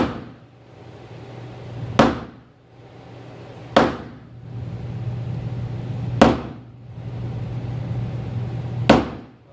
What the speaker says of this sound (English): Now we're going to come back with a center punch to open these up a little.